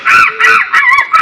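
Loud, nasal quacking calls from a duck, four or five honking bursts in quick succession, close by with no voices.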